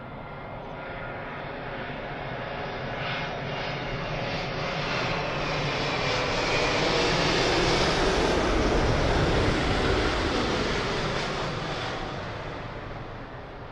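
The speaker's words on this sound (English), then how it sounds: "in from Bermuda, 27-year-old 777-200 ER." A 27-year-old British Airways Boeing 777-200ER arriving from Bermuda roars overhead on landing at London Heathrow runway 27L, a loud broadband jet rumble that swells to a peak near the middle and slowly fades, with no voices.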